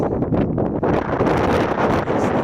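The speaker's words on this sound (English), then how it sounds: "A little bit windy, I don't know if you can hear me." Heavy wind buffeting the microphone outdoors by a rail cart on railroad tracks, loud rumbling gusts that swell and dip throughout, with no voices.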